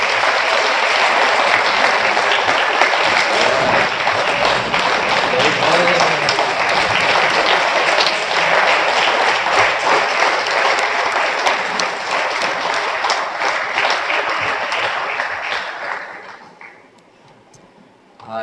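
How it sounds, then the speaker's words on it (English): Audience applause at a Boy Scout Troop 313 Eagle Scout recognition ceremony, a sustained dense round of clapping that fills most of the clip before fading out near the end. "Let's give our Eagle Scout one more final round of applause."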